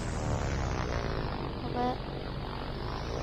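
Airplane in a video game passing overhead, a steady propeller-like engine drone with a brief swell near the middle, continuous and fairly loud throughout.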